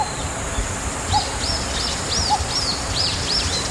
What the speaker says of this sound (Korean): 새소리 잘 들렸어